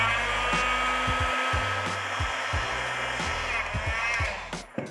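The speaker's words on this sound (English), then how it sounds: "Now, if I take my heat gun," A heat gun blows steadily on heat shrink tubing over a captive screw connector, a loud continuous close-range whoosh with a faint whine, while lower clicks and thumps of handling sound beneath and the blower cuts off right at the end.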